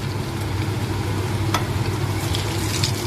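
Cuban corn tortillas fry in a pan with a steady, loud sizzle of hot oil, and a brief scrape is heard as they are flipped; no talk.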